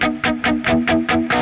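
Electric guitar played through a distortion pedal, dialed to a crunchy tone: seven even, rhythmic chugged chords, loud and close, with no other sounds.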